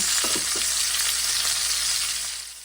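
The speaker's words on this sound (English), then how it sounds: "I'm just going to flip my chops and cook them for another 3 to 4 minutes on the other side until they're brown" Pork chops fry in a pan with a steady, loud, close sizzle throughout, a few soft utensil knocks near the start, and the sizzle easing slightly at the end.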